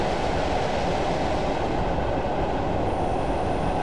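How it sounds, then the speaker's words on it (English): A Class 111 diesel multiple unit coasts along the Dumfries to Kirkcudbright line in Train Simulator 2015, giving a steady, even rumble of wheels on rail with no voices. "I'm just going to allow the train to continue to coast at this point."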